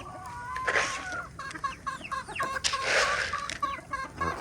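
Chickens and a rooster cluck busily at close range while being fed, with repeated short, overlapping calls throughout and no talking.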